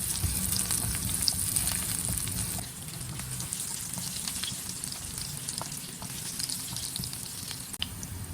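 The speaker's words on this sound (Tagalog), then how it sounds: "Sa pinagprituhan natin ng ating chicken, dito tayo magigisa ng bawang." Garlic sautéing in leftover oil from frying chicken, a steady close sizzle and crackle with occasional pops and a few stirring scrapes, loud at first then settling slightly quieter.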